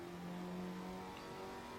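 Racing car engine in Assetto Corsa on a track, a steady close droning engine note holding near-constant revs throughout, alone and without speech.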